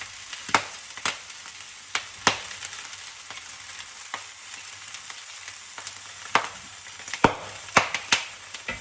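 Crackling sizzle of mushrooms stir-frying in a wok with vegetables and seafood, with sharp popcorn-like pops and snaps breaking out irregularly over a soft hiss.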